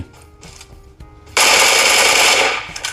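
Automatic gunfire from the mobile battle-royale game PUBG Mobile: a sustained, loud burst of rapid shots erupts midway and runs to the end, following a quieter stretch of faint scattered game sounds.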